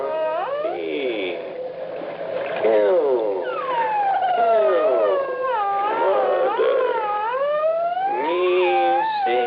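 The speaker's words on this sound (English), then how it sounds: "The high squeak of that dolphin when it slowed down this way." A dolphin squeak recording played back slowed down becomes loud, drawn-out wailing moans with rich harmonics. The moans sweep up and down in pitch and run continuously with almost no pause.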